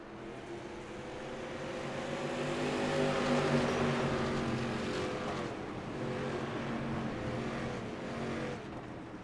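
Race cars battling at Langley Speedway, a pack of engines droning together in a steady, loud roar that swells as they pass close and eases off slightly toward the end.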